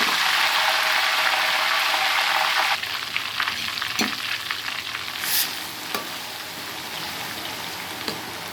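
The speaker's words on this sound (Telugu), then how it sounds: "ఇప్పుడు ఈ ఆయిల్లో అల్లం వెల్లుల్లి పేస్ట్ వేస్తాను." Ginger garlic paste drops into hot oil for a prawn dish, bursting into a loud, dense sizzle that then settles into steadier, lower frying with a few clinks and crackles, close by and without speech.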